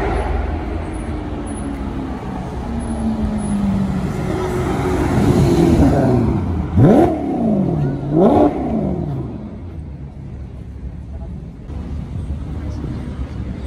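A vintage Aston Martin on Place Vauban in Paris revs loudly nearby, engine note rising and falling in several sharp blips, with street traffic around and a voice talking over it.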